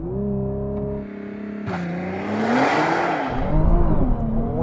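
A Nissan GT-R Nismo launches from a standstill, its engine note climbing through a gear change and rising again into a loud, close, strained roar of hard acceleration.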